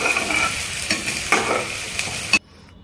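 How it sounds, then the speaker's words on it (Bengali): Onions for a mutton curry sizzle loudly in a hot pan with a few scraping stirs, then the frying cuts off abruptly near the end. "তো অনিয়নগুলো দিয়ে দিচ্ছি আমি এখন।"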